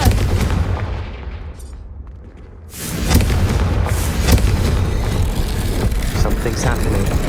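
The Confringo fire spell in Hogwarts Legacy goes off with a sudden heavy blast after a brief lull, followed by rumbling crackle and a voice speaking over the combat.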